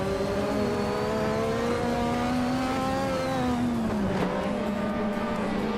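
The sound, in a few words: race cars driving in a racing video game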